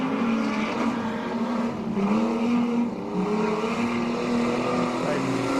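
Street stock race cars such as a Falcon and a Commodore roar around the Laang Speedway during a 50-lap feature, a sustained engine drone rising and falling with the pack, under continuous commentary from an announcer.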